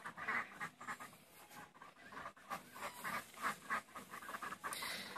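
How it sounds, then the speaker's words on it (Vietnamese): A flock of ducks being herded forward gives soft, overlapping quacks and breathy panting calls in a quick, uneven rhythm, close but fairly quiet, with no talking. "mình sẽ lùa cái đàn vịt này lên phía trước"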